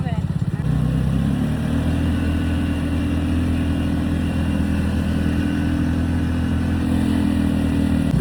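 A motorcycle ridden through forest runs at a steady engine drone after a brief initial burst, holding a constant mid-pitched hum close by for the rest of the clip.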